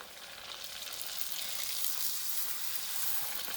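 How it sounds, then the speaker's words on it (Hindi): Small golgappa puris fry in hot ghee at a street food stall, giving a steady, bright, crackling sizzle with no talking. "ऊपर गरम गरम घी डालना शुरू कर दें ताकि वो अच्छे से फूल जाए"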